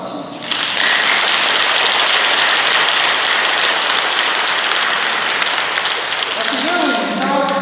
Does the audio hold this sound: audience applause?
yes